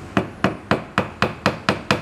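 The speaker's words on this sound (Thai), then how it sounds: "ใช้ตะปูตอกนะ" A hammer drives a nail into a wooden board to act as a stopper for a trimmer router jig: eight sharp, evenly spaced strikes about a quarter second apart, loud and close with no talking.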